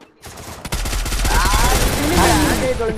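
Rapid gunfire from a shooting video game erupts after a brief quiet opening and continues as dense, sustained bursts. A voice talks over the shooting.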